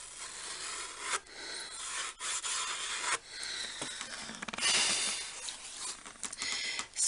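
Excess embossing powder being brushed off a stenciled surface makes continuous close, dry rubbing and swishing strokes, with a few brief pauses between passes.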